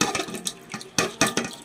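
Rice poured into a pot of boiling water already holding bay leaf and whole cardamom, giving a close, brief run of splashing and bubbling bursts with no talking.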